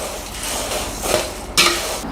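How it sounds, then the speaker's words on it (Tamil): Crispy homemade snack mixture tossed with salt and chili powder in a metal vessel, giving dry rustling and scraping with a couple of sharper clinks, moderately loud and close, no talk. "பாருங்கள், நல்லா மொறுப்பாக சத்தம் வருதுல்ல."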